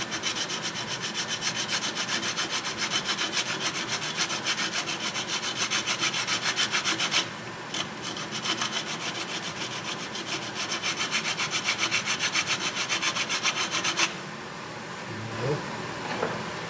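Coarse 36-grit abrasive is worked over a pallet wood vase. It gives a close, steady rasping with quick repeated strokes that runs for about fourteen seconds, then stops briefly and ends.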